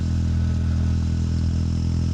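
A Triumph Scrambler 400 XC motorcycle engine revving fairly high in 5th gear while riding, a steady loud mid-pitched drone with constant harmonic hum and no talking.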